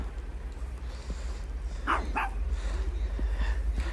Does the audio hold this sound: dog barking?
yes